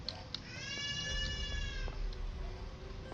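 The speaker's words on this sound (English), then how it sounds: "Boy, that is an upset baby." A baby screams and wails upset in the background, high and drawn out over a quiet low rumble, fairly faint and distant.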